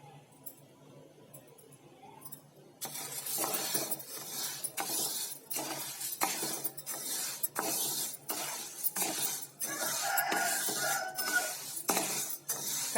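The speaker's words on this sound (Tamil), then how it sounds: "இதை நல்லா நம்ம செவக்க வறுத்துக்கணும்." Green gram (moong dal) dry roasts in a pan, with a quiet dry rattle of grains and frequent scraping, clinking strokes of a spoon against the metal, close and fairly faint, with no talk.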